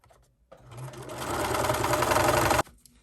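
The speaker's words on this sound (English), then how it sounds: "this is so you can continue sewing around the edge without, you know, sewing it together" A sewing machine stitches fabric for a scrunchie, starting after a quiet moment and whirring fast and close for about two seconds before cutting off sharply.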